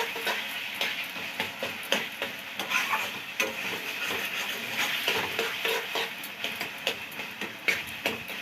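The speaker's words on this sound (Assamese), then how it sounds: "এতিয়া আমাৰ কচুখিনি ভাজি হৈ আহিছে" Taro pieces fry and are stirred in a pan, giving a steady close sizzle broken by frequent sharp scrapes and clicks of the stirring spoon, with no talking.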